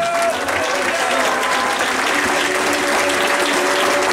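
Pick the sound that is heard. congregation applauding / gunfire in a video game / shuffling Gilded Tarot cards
congregation applauding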